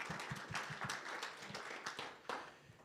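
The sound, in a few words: round of applause at a report launch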